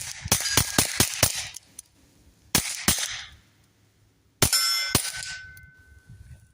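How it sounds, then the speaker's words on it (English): Sharp gunshots through an AAC Element 3 suppressor ring off steel targets with bright metallic clangs, a quick string of shots, a pause, then a few more impacts with lingering ring. "I always like to shoot steel occasionally"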